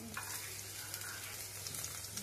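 Garlic frying in oil in a home kitchen pan for a paneer dish, giving a steady, close, continuous sizzle with faint stirring and no talk.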